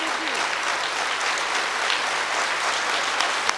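Loud, dense audience applause fills a Diwali morning birthday celebration at Om Shanti Bhawan, Mount Abu, steady and sustained throughout with no break.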